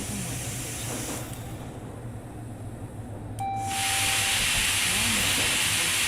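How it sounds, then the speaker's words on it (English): Subway train brakes in the GMod Metrostroi game release a loud, sustained hiss that swells partway through, layered over a steady low rumble, with a brief tone sounding alongside. "Yeah, these brakes suck slightly."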